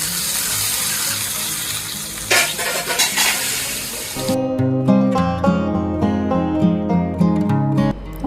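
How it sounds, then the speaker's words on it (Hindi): Mustard seeds and curry leaves hiss and crackle loudly as they hit hot oil for tempering chutney, then a spoon clinks and stirs against the pan while the sizzling continues. "तेल में जस्ट राई और कड़ी पत्ता डाला है और लगाऊंगी चटनी में छौंक"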